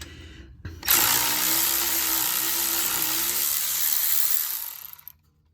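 A ratchet with a 16 mm socket turns a wheel bearing bolt on a 2010 Chevrolet Camaro 3.6, a rapid continuous clicking run lasting about four seconds, close and alone before stopping abruptly.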